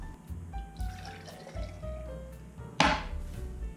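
Apple cider vinegar poured into a jar for pickling red onions: a soft, steady trickle and gurgle of liquid close by, with a brief clink or splash partway through and no speech.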